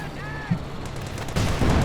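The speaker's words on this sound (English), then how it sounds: "Here's a tank. One shot missed." A tank fires shots in the Company of Heroes 2 strategy game, with booming cannon reports and battle noise building toward the end under a steady game soundscape.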